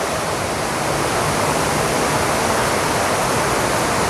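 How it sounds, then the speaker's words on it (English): Water rushes over stepped spillway ledges at the Fort Worth Water Gardens, crashing down in a loud, steady, unbroken roar close at hand. "a big little spillway where the water can rush across and then drop down another ledge"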